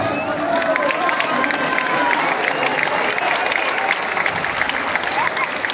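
Crowd applause and cheering at the Lienzo Charro Adolfo López Mateos arena in Ciudad Juárez for a team of caporalas, a steady wash of clapping with crowd noise beneath and an announcer's voice heard over it.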